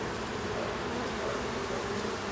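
Bees from a weaker swarm hive, with the queen being moved in, make a steady, dense buzzing drone that stays at an even loudness throughout without any talk.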